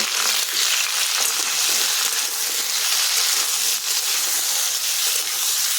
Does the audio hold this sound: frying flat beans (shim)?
yes